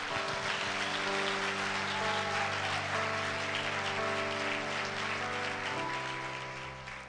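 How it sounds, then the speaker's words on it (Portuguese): A church congregation applauding during a Sunday service: a steady wash of many clapping hands over sustained keyboard chords, fading slightly toward the end. "Dê um aplauso a Ele."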